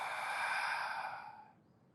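One long, breathy exhale during a yoga twist, close to the microphone, steady for over a second and then fading away into quiet.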